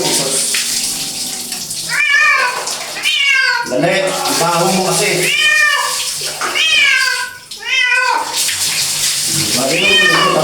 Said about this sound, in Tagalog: Paliliguan mo yung pusa na to kasi mabaho.